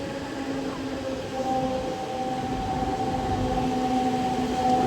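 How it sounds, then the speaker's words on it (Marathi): A Mumbai local train pulling into Nerul station in Navi Mumbai, heard from on board as a loud, steady rumble that swells gradually, with a sustained whining tone running throughout. "तर आता आपलं स्टेशन अरायविंग होत आहे नेरूळ स्टेशन"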